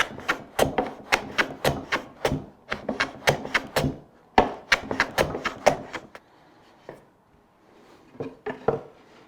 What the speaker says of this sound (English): to use a plane to sneak up and get a perfect 45-degree angle